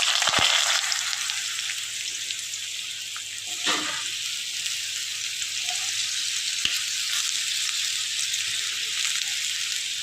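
Potatoes sizzle in white cooking oil in a pan for a simple potato and yardlong bean fry: a loud, even frying hiss runs throughout, with a sharp clatter at the start and a few scattered stirring knocks.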